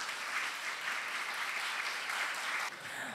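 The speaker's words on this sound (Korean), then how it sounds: "다시 한번 차관님께 큰 박수 부탁드리겠습니다." Large audience at a cultural arts education forum applauding a vice minister, dense continuous clapping that stays even and full throughout, heard alone.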